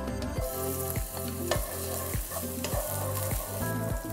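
Shallots and garlic crackle and hiss in hot oil with a dense, close sizzle, while rhythmic scraping strokes of stirring recur about every half second under a steady hum and no voices.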